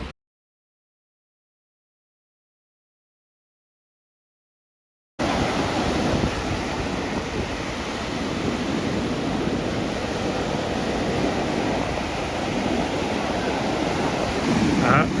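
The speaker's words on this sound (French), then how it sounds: "Je vais vous montrer un peu les vagues" Ocean waves break near Sydney with a loud, continuous roar of surf and wind buffeting the microphone, starting abruptly after several seconds of silence.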